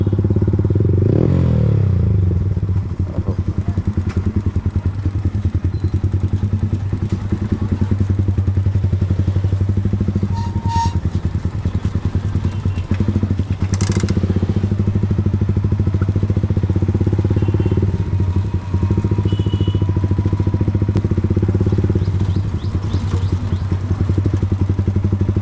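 A modified Yamaha MT15 motorcycle fitted with an Akrapovic full-system exhaust idles with a steady, deep engine rumble throughout, close and loud, with light clattering and scraping mixed in.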